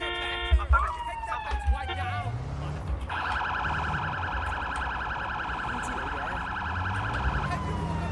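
Wailing police car siren in the video game Sleeping Dogs, a steady two-tone electronic wail holding loud over low engine rumble, with earlier horn-like chirps; someone talks over it.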